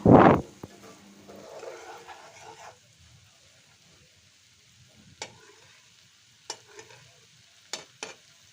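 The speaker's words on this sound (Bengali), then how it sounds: "এই তো দেখছেন নাড়াচাড়া করে এভাবে আমি বেশ কিছুক্ষণ রান্না করব তেলটা ছেড়ে দিলে ভাজা ভাজা হয়ে যাবে" Bitter gourd with masoor dal fries in oil in a pan. A loud clatter at the start gives way to soft stirring and faint sizzling, then long quiet stretches with a few sharp scrapes of a spatula.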